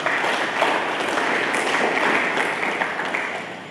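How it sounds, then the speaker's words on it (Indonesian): A church congregation gives lively applause during a sermon, a loud, dense, sustained burst of clapping with no pauses. "Mari kita berikan tepuk tangan yang meriah"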